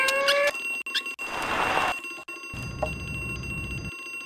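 Alarm bell ringing in the video game Harvester: Two Years Later, a bright metallic trill in short repeated bursts, alternating with noisy in-game sounds.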